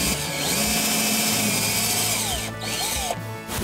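A power drill whines steadily while drilling a hole for a pin, its pitch shifting under load, with brief pauses near the end.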